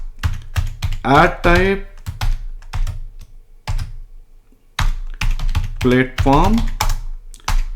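Computer keyboard keys click steadily while someone writes SAS code, the taps sitting close and partly buried under continuous talk.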